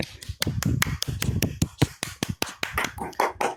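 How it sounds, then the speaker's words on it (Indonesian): A single person clapping hands, a series of sharp, close slaps in a quick uneven rhythm, roughly a dozen and a half claps over a few seconds with brief pauses between bursts. "Tunggu aku tepuk tangan dulu,"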